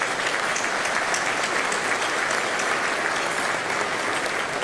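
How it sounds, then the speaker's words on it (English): An audience at a city mayor's State of the City address applauds steadily, a dense, even wash of clapping that holds throughout without a break. "Please give them all a round of applause."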